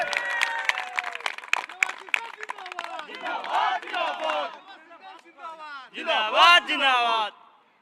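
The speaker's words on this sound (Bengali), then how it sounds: "পথের সাথে সকল সদস্যদের বলবো একটা জোরে করতালি দেওয়ার জন্য" Club members at a Shyama Puja celebration burst into loud, scattered clapping that fades while cheering voices and excited chatter rise and swell near the end.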